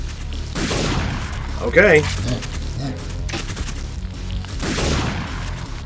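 Gunfire in the Parasite Eve 2 game, heard as bursts of shots and mechanical clatter amid a busy game soundscape, with a voice speaking briefly.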